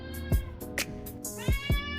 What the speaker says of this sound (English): I think she's actually the loudest cat